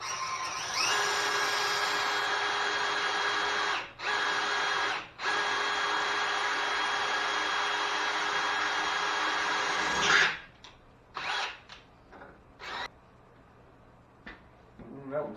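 A power drill whines steadily for about ten seconds with two brief pauses while working on a 1986 Chevy Suburban's 4L80 transmission linkage, then stops, followed by a few scattered knocks and clicks.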